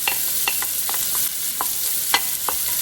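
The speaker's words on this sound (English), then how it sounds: "go ahead and saute your onions just until they're translucent" Onions sauteing in oil in a skillet give a steady bright sizzle, with a spoon stirring and scraping at irregular intervals close by.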